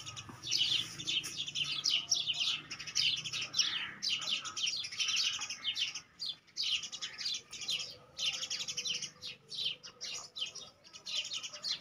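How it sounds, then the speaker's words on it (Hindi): Sparrows and other birds sit in a berry tree and chirp in dense, overlapping bursts. The bright tweeting is steady and fairly close, with only short pauses and no voices. "ये परिंदे जो हैं माशाल्लाह से वीडियो के अंदर बैकग्राउंड म्यूज़िक के तौर पे काम कर रहे होते हैं।"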